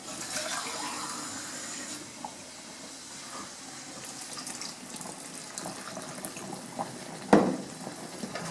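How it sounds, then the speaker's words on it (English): Water runs and splashes steadily into a container, a soft continuous hiss and trickle, with a brief louder clunk near the end. "I'm going to add a little bit more water to it."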